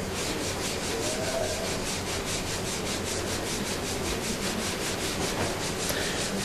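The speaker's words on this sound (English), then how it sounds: "the panel beater is now demonstrating by passing his hand over the panel to find out whether the panel is indeed flat." A hand sweeps back and forth across a flat car body panel, making a steady, close, rhythmic rasping rub that carries on evenly with no one talking.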